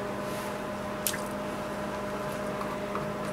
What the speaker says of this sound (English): I'm going to add my sodium lactate and my yogurt.